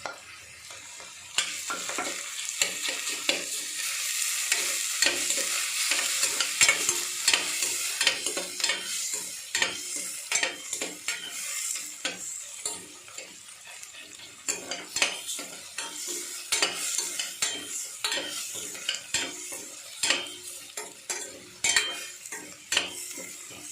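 Ginger garlic paste frying in a pan, steady sizzling broken by frequent sharp metallic scrapes and taps of a spoon against the pan as it is stirred, close and fairly loud.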